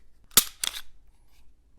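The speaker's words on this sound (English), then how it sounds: "Take the slide off the MR920" Two quick metallic clacks sound close and crisp as the slide is worked off a new, unloaded Shadow Systems MR920 Glock-pattern pistol, with a soft scrape after them.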